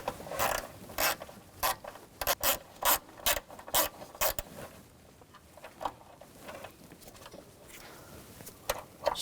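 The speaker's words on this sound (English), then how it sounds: "You can see right here there's a screw. We're going to use a T30 socket." A ratchet with a T30 socket backs a screw out of the auxiliary water pump on a 2000-2006 BMW X5 3.0L inline-six, giving bursts of close, crisp clicking in uneven groups with quiet gaps between.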